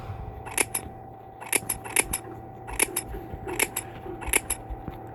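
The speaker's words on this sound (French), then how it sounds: "Et on coupe beaucoup." Scissors snip hair in a Toca Boca game, sharp crisp clicks in quick pairs and short runs, close and clear over a faint steady hum, with no talk.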